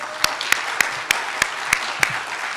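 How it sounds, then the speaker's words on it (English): At a senior awards ceremony at Cal Maritime, sharp individual hand claps land in a slow, even rhythm, about seven distinct claps over a quiet room rather than a full crowd. "I want to give you a big round of applause."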